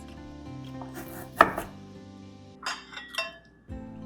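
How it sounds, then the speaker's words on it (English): Knife chopping scallions and ginger on a cutting board in a home kitchen, a few sharp isolated chops with light clinks between them, close and fairly quiet. "scallions and ginger are the only things that I have to chop today for this sauce"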